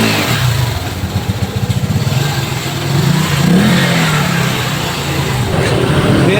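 On a test ride after a rear wheel bearing replacement, a Euro Griffin 180i motorcycle engine revs and accelerates close by. Pulsing throttle bursts rise over a steady rumble.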